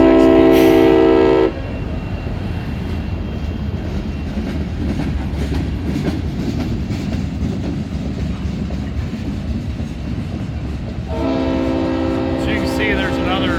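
Two SD60E locomotives lead a train rolling past at Bellevue, a sustained rumble with rhythmic rail clatter lasting most of the stretch, framed by loud horn blasts at the start and again near the end.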